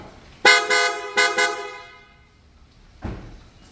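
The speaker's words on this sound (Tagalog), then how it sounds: "we changed the horn. PIAA base horn and PIAA sports horn." A PIAA aftermarket car horn on a Toyota Land Cruiser 300 honks in two short double blasts, loud and close, followed by a brief softer toot after a pause.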